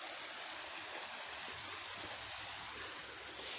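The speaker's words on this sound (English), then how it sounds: "I happened to come across a little tiny creek. I heard running water" A small creek of running water coming off a hillside along the Spruce Railroad trail in mid-June, a faint, steady, broadband rushing and burbling with no breaks.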